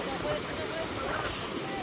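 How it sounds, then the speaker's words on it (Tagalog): Big waves in the aftermath of a super typhoon, a steady broadband roar of churning surf and wind noise on the microphone, continuous and fairly loud throughout. "Laki pa rin ang alon oh."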